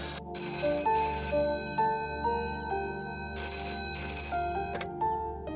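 A telephone rings in electronic bursts, loud and close, with repeating tonal trills and short gaps, no talk over it.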